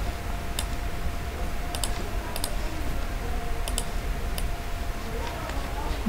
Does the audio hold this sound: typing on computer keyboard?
yes